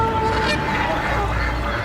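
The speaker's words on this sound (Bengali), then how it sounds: "হাঁসগুলো বিকট স্বরে চেঁচামেচি করতে শুরু করেছে।" A flock of ducks quacks loudly in a steady, dense clamor that fills the whole short stretch without a break.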